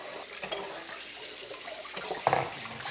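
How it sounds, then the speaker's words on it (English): Tap water running into a kitchen sink to soak a dirty dish, a steady hissing splash with a few clinks and shifts, fairly quiet and close, no talking. "Set it in water, make it easier to clean."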